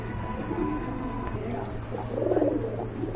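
A pair of pigeons coo in low, rolling murmurs, one brief call early and a longer, fuller coo toward the end, set against a steady low hum with no talking.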